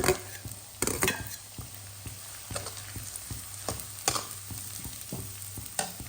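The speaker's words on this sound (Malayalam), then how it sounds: "ജസ്റ്റ് ഇങ്ങനെ നമ്മളൊന്ന് ജസ്റ്റ് ഇളക്കി കൊടുത്താൽ മതി" Chopped carrots and other vegetables for fried rice sizzle quietly in a pan while a spoon stirs them, producing rhythmic clinks and scrapes against the pan over a soft, steady frying hiss.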